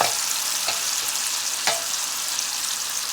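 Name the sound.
tandoori chicken and vegetables stir frying in a pan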